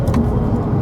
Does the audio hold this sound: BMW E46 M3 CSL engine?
yes